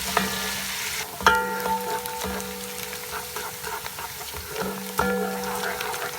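Minced shallots sizzle in clarified butter in a pan, a steady close frying hiss broken by a few scraping stirs and clinks of a utensil, with no voices.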